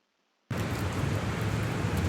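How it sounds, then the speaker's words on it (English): After a moment of silence, heavy rain from a video game comes in suddenly and keeps falling as a dense, steady hiss, loud and close, with no pauses. "It was raining outside."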